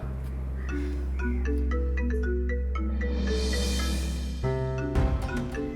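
A phone rings with a melodic electronic ringtone, a string of tuneful beeping notes repeating steadily for several seconds over a constant low hum, loud and close, with no speech.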